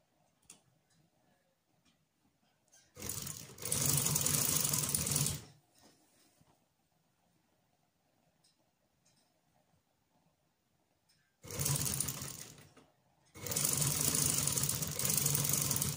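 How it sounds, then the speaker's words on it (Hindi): A sewing machine stitches piping on an angrakha garment in two bursts, a steady fast whirring run that pauses briefly before resuming, with quiet room sounds in between. "अपनी स्टिचिंग जो है वो लगा लेनी है।"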